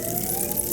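A police car siren in a horror video game, a steady wailing tone that holds for a brief moment, loud and alone with no talking.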